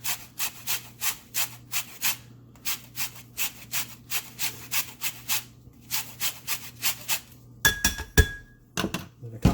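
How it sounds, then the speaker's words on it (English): A small handheld zester rasps over a lemon in short, even rubbing strokes, about two per second, close and clear with a low hum underneath, then a few sharp clinks at the end. "I'm going to take my trusty little zester here, and I'm going to zest half of the lemon"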